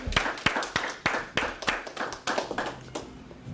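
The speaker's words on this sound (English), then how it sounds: "So ladies and gentlemen, I like a big round of applause for Ben." Applause from an audience at a South Houston business networking meetup: a few pairs of hands clap nearby in a steady, fairly sparse rhythm, with no one talking over it.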